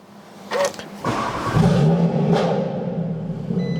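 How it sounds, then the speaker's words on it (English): A 2018 Audi RS 3 sedan with a Stage 2 APR tune starts by push button: a brief crank, then the engine catches with a loud rumbling flare and settles into a deep, steady idle close by. "Let's start her up. So you've got a push button here."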